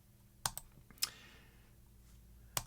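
A few sharp keyboard clicks on a computer while entering a parcel weight into an online postage account, three or four isolated taps spaced apart in a quiet room.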